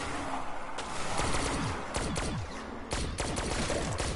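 Gunfire in the Black Ops 3 Zombies game on the Origins map, rapid repeated shots in dense clusters with mechanical clatter, loud and continuous with no talk.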